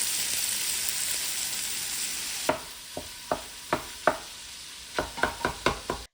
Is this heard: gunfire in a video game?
no